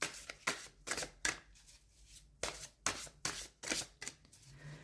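Tarot cards are shuffled close up in a series of quick, crisp riffling bursts with short pauses between them.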